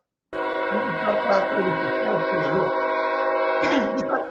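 A train from a 1936 Canadian film sounds its horn in a long, loud, sustained chord after a sudden start, with rumbling rail noise and faint voices beneath.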